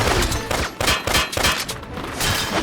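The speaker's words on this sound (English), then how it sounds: "They're shooting at us!" Enemy gunfire in the video game Valkyria Revolution: dense, loud rapid bursts of shots in an unbroken volley, with brief gaps and no talk.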